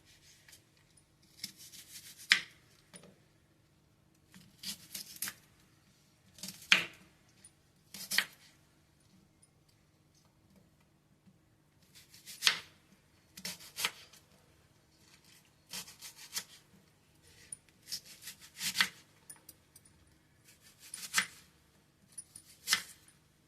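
Knife chopping onions and green chillies into large pieces on a board, in irregular bursts of close, crisp cuts separated by short pauses, with no talking.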